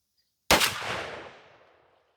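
A single sharp blast from a Remington 11-87 12 gauge shotgun firing a 00 buckshot shell, sudden and loud, with a reverberant tail that fades over about a second and a half outdoors.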